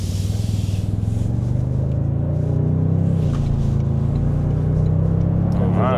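A Toyota Sequoia with a hybrid turbo engine in race mode accelerates, a loud, steady engine drone and road rumble heard from inside the cabin with rising tone and no talking.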